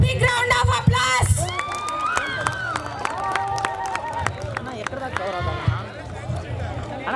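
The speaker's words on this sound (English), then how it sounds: "Give a big round of applause" Crowd at a college farewell event for an ECE class, clapping and cheering over a busy hall with loud talk and music-like tones running through.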